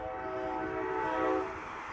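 A train horn sounds at a distance, one sustained, harmonic blast that swells slightly and then eases, fairly faint against a quiet background.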